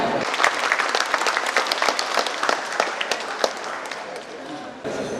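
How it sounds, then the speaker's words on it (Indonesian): An audience applauds at a morning university ceremony, dense, steady clapping with sharp individual claps, loud and close, tapering slightly toward the end. "Mohon berikan tepuk tangan bagi Pak Agung."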